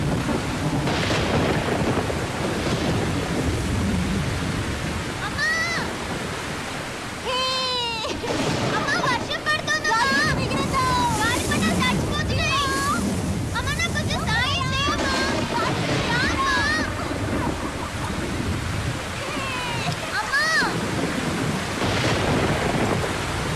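Thunder rumbles and rain falls through a storm scene, mixed with voices and other sounds that stay loud and busy from start to finish.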